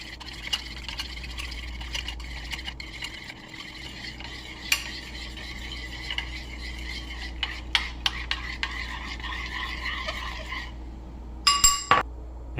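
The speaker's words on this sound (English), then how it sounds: "And then you just mix it up." A spoon stirs plain yogurt, walnuts and honey in a glass, giving soft repeated scraping and light clinks at close range, ending in a short burst of sharper glass taps.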